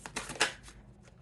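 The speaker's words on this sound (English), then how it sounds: "Keep shuffling here." Tarot cards being shuffled by hand, a few quiet soft riffling bursts close up, fading toward the end, no talking.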